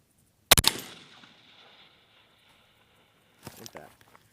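A 22 DPC Wildcat 18-inch AR-15 rifle fires, heard as a quick burst of sharp, loud cracks at close range. Each burst rings out and decays, then a second fainter cluster of shots follows about three seconds later.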